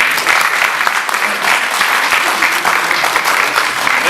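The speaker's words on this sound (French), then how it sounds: "on peut les applaudir, je pense qu'ils le méritent" A conference audience applauds its speakers with dense, steady clapping from many hands, loud and sustained throughout without a break, filling the room with no voice standing out.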